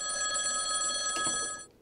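A telephone bell rings in one bright, sustained, buzzing burst that stops abruptly, close and clear with no talk over it.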